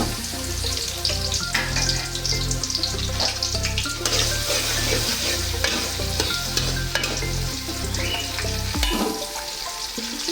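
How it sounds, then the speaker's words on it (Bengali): Chopped onion sizzles and crackles in hot oil for a prawn and vegetable curry, a loud continuous frying hiss close by with stirring, the low rumble dropping away near the end. "তেলটা গরম হলে তার মধ্যে পেঁয়াজ দিয়ে দিব"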